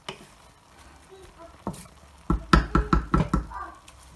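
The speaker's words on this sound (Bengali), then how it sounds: "এখন এটাকে একটু নেড়ে দেবো এপাশ ওপাশ করে।" Greens and lentils being turned over in a cooking pan on medium heat: a run of rhythmic scraping knocks from the spoon, close and fairly loud, following a quieter stretch.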